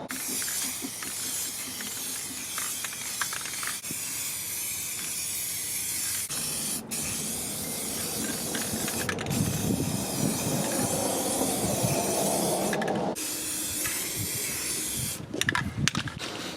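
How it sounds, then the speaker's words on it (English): A long, steady hiss of an aerosol spray can, close by, spraying a Jeep Cherokee XJ frame rail, running for several seconds with brief pauses and sputters near the end. "Let me spray this rail."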